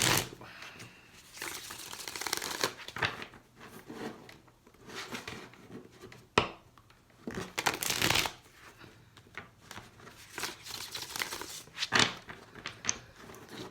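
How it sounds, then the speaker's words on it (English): Tarot cards are shuffled by hand in repeated brisk riffles and slides, each burst separated by short pauses, close and crisp over a quiet room. "Two more shuffles for Scorpio."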